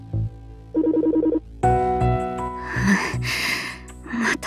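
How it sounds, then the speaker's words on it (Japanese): A phone ringtone plays in repeated bursts, a short melodic ring pattern followed by louder sustained electronic ringing, heard clearly alone with no talk over it. "また電話か。"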